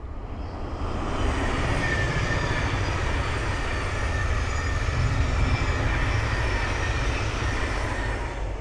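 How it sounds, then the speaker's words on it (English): A Thameslink Class 700 electric train on the Midland Main Line at Ayres End Lane rushes past in a steady, loud roar of wheels and rail noise that swells and holds for several seconds before easing slightly. "The Thameslink 700 passing through is Bedford to Brighton."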